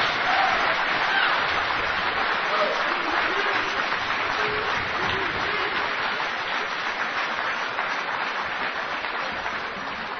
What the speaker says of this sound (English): Why don't y'all celebrate yourselves and your work right now with a great big round of applause.